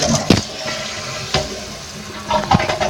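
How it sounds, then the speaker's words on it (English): A 2017 Kohler Wellworth toilet flushing with its tank removed, giving gurgling splashes and sloshing water in a few uneven bursts, close and fairly loud, with no talking. "Let's flush it."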